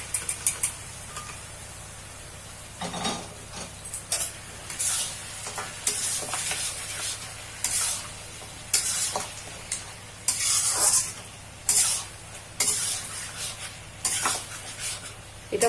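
Half-boiled mutton stirred and fried in a pan of spiced onion masala for a Bengali mutton curry, with steady sizzling, a couple of brief bursts early on, and repeated scraping strokes rising and falling through the frying.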